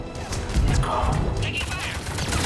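Sci-fi gunfire erupts at a checkpoint in Mass Effect 3, a dense, continuous barrage of loud shots and impacts filling the whole moment, with shouted voices mixed into the din.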